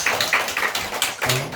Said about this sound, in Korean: 보화기도원 박수 한번 해주세요